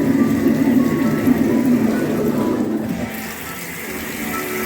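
Automatic flush of a futuristic public toilet in Smithton, Tasmania: a loud, close rush of gushing water for about three seconds, then easing into a softer, steady flow.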